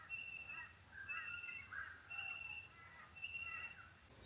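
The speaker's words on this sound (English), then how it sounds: "I awoke to a cacophony of birds" A mix of unfamiliar wild birds calling at waking time in Queensland, Australia: faint, repeated high chirps and whistles scattered over a soft, constant background hiss.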